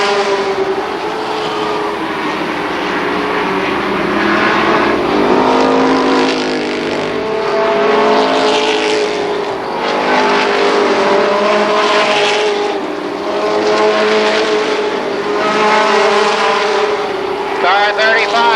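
Winged sprint cars race at Columbus Motor Speedway, and their engines roar loudly as they sweep past in rising and falling waves over a steady din. An announcer talks over the racing throughout.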